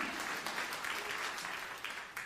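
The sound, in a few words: church congregation applauding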